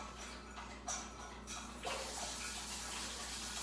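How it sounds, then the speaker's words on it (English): Water runs from a kitchen tap for hand washing, a steady broadband splash that grows fuller after a couple of seconds, close and continuous with no talking. "we're going to wash our hands really quick"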